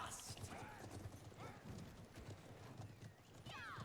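Horse in Conqueror's Blade battle: quick clip-clop hoofbeats with several whinnies and neighs, under a commentator's ongoing talk.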